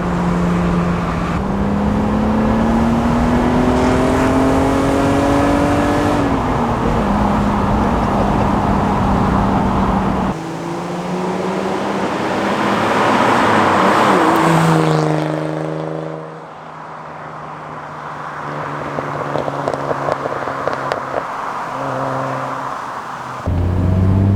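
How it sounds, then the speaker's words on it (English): An inline-six car engine revs in sustained, rising and falling pulls, with a smooth harmonic drone that climbs in pitch, dips, then climbs again. It sounds close and loud throughout. "I love the sound of an inline six."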